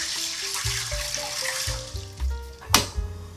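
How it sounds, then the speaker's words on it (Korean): About 600 ml of water is poured into a pressure cooker, a loud splashing gush that rises and falls in uneven surges with a sharp clink partway through. "두 번째도 물 600ml를 같이 부어주세요."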